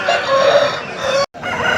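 A rooster crows loudly and close, one long drawn-out call that cuts off abruptly, then farmyard noise resumes.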